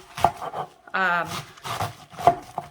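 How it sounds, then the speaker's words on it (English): A knife chops cabbage into roughly one-inch square pieces on a cutting board, with a few sharp, close chops spread out under a speaking voice. "You want to chop your cabbage up into about 1-inch square pieces"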